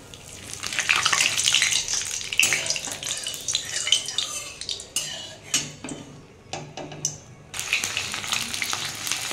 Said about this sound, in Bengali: ওই তেলের মধ্যেই আমি একটা শুকনো লঙ্কা আর একটু তেজপাতা দিয়ে দিলাম।